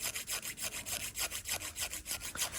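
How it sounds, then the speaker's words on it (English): A cheap nail file rasps back and forth across fingernails in quick, even strokes, about four per second, close and quiet. "filing back and forth is not bad for the nails"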